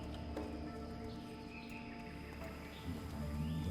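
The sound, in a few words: birds in Stranglethorn Vale, World of Warcraft video game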